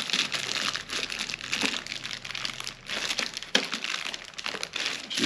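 Plastic bag wrapping is pulled and torn off a Rega io amplifier during unboxing, giving near, irregular crinkling and crackling bursts that continue throughout at moderate loudness.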